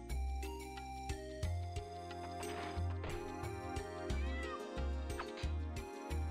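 Repeated cat meows from the Wild Arms 2 video game, several short calls spaced through a looping game music track with steady beats, no talking.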